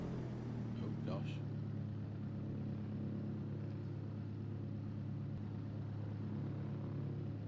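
Aircraft engine in the Prepar3D flight simulator drones steadily as it loses RPM, a constant low rumble running the whole time with a brief faint squeal near the start.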